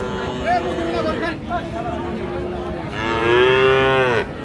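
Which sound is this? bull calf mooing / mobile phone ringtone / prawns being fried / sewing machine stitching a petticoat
bull calf mooing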